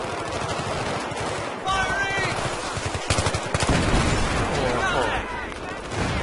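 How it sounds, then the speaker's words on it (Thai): Rapid bursts of gunfire and heavy shooting in the military shooter Battlefield 3, loud and continuous, with a voice speaking over the battle noise. "ยิงมาจากไหนอีกวะเนี่ย"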